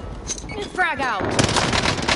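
Frag grenade blast in the video game Warzone on Rebirth Island, a heavy close boom with a broad rumbling burst that sustains to the end of the clip.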